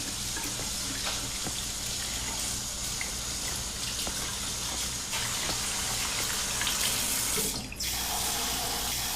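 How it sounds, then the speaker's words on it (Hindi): Water gushes steadily from a tap into a sink, a loud, continuous splashing rush that holds for the whole stretch with no voices. "ओह सॉरी, मैंने तुम पे पानी उड़ाया।"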